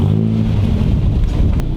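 A Nissan 240SX S13 with a welded differential drives around a block, its engine giving a loud, steady low drone with a slight rise in pitch, close to the microphone and with no talking.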